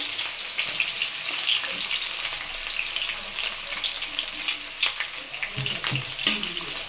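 Chopped onion sizzles in hot oil with fried whole spices for chana masala, a steady close frying hiss with occasional stirring scrapes and clinks, no talk.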